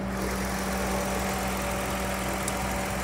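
A 2019 Mitsubishi Mirage G4 with a 1.2 liter three-cylinder engine idles under an open hood, a steady, even hum with a low thrum, close and constant throughout with no talk.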